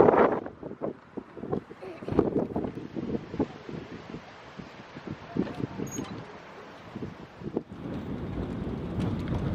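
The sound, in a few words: wind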